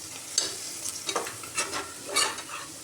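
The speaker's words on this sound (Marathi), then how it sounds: "कांदा छान भाजून घ्यायचा" Onion frying in a pan for a spiced Indrayani rice dish, with a steady sizzle and irregular scraping strokes of a spoon stirring it close up.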